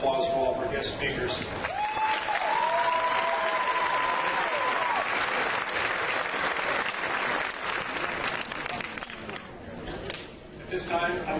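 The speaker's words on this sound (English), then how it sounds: "A round of applause for all of our guest speakers." Sustained applause from a graduation ceremony audience for guest speakers, dense and loud throughout, with crowd chatter and a few cheers mixed in.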